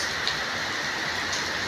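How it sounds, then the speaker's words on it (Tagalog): Heavy rain pours down in a dense, unbroken wash of noise, steady and fairly loud throughout, with no talking. "Ang lakas ng ulan."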